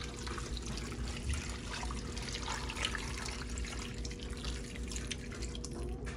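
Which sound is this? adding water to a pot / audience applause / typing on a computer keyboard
adding water to a pot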